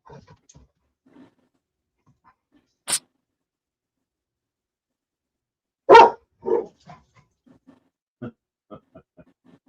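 A dog barks in a quiet room, a single sharp bark early on, then a louder double bark burst midway, followed by a few softer short yips and snuffling sounds.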